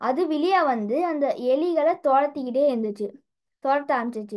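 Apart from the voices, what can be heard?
No everyday noises stand out.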